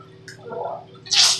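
A short bout of mouth rinsing with hot water: a soft gurgle and swish, then a brief louder spitting splash at the end, close up and alone.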